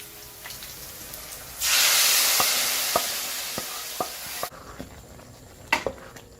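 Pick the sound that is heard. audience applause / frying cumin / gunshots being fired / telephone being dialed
frying cumin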